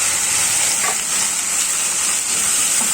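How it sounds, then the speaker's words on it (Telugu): Ginger garlic paste frying in oil with whole spices for chicken dum biryani, a loud, steady hiss of sizzling close by for the whole stretch. "అల్లం వెల్లుల్లి పేస్ట్ వేగుతూ ఉండగా కొంచెం ఇది ఆయిల్ వదులుతూ వేగాలండి, పచ్చివాసన అంతా పోవాలి."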